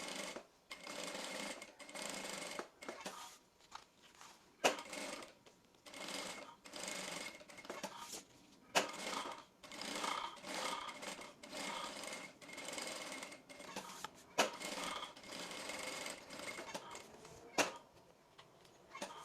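A sewing machine stitches the edges of a fabric flap and its lining for a folder, running in repeated short bursts with brief pauses between them, close and clear with no voices.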